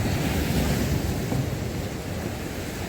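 Heavy surf from storm waves on the sea at Arcadia beach in Odesa, a loud continuous roar with wind buffeting the microphone throughout.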